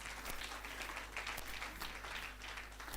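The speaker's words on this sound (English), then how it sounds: "Let's give another round of applause for children." An audience applauds children at a live-streamed event, a faint, distant spread of clapping from many hands against a low steady hum.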